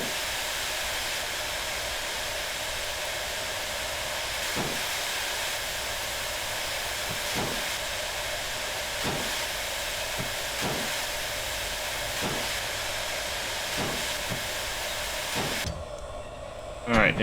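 Steam locomotive in the Derail Valley train simulator releasing a steady, loud hiss of steam, with repeated short chuffs or clanks every second or so, and a brief cutoff near the end.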